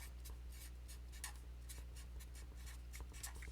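A pen or pencil scratches across paper in short, irregular strokes, quiet and close over a low steady hum, with no talking.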